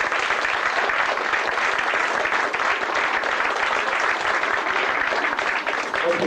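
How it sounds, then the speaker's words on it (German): A large crowd applauds steadily, dense clapping filling the whole stretch at an even, loud level with no pauses. "Das ist wirklich ein Applaus wert."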